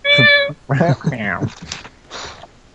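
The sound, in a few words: person imitating a cat's meow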